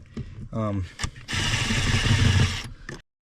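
A small impact driver zips out shifter bolts on an E34 BMW during a short-throw shifter install, one sustained buzzing, rattling burst of about a second and a half following a brief voice and a short whirr.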